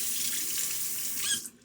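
Tap water runs steadily into a sink during a wet shave with a Timeless 68 OC razor, a close, continuous hiss that cuts off abruptly near the end.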